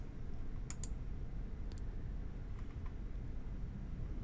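A few sharp computer mouse clicks, spaced apart, over a steady low background hum while setting up OBS.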